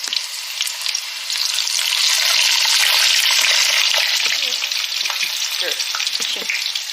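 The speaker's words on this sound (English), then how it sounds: "She's frying some fries." Fries frying in hot oil while cooking a chicken sandwich meal, a loud, steady crackling sizzle throughout, with a brief spoken word and faint talk in the background.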